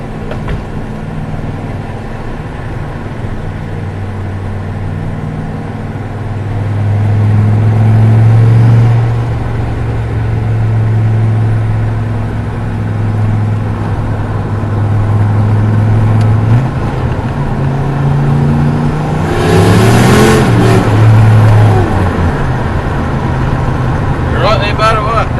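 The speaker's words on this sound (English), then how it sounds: "Look forward to being able to rev it and see if I can do some wide open shifts with it" A turbocharged LS1 V8 in a one-ton truck runs loud and close, settling into a steady idle with a couple of brief swells in revs.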